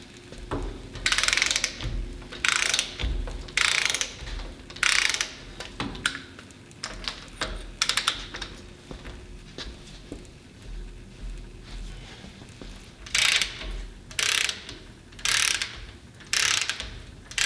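A hand ratchet turns bolts during restoration work on a Mack R686ST truck, giving bursts of rapid clicking that start and stop in short strokes, with quieter pauses between them and no talking.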